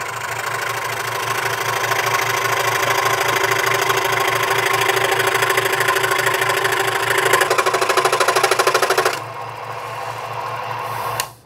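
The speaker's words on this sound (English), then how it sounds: "there's your first scroll saw cut. That's cutting with a pin blade." A Carbatec SS-400H scroll saw cuts with a pin blade, giving a steady, loud motor drone with a fast rhythmic buzz for about nine seconds, then a brief quieter hum before it stops.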